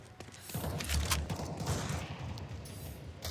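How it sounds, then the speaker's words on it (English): AWP sniper rifle shots in a competitive shooter match, a cluster of sharp gunfire cracks with rattling echoes, fairly quiet and distant, with no talk over them. "the AWPs are becoming louder and louder as they rattle frags for both sides"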